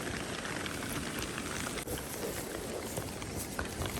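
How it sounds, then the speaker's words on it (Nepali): Steady rain falls over a foggy hilltop village, a dense, even hiss of drops on surfaces that holds at a constant level throughout with no voices. "पानी परिराखेकै छ"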